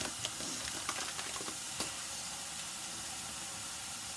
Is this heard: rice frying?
yes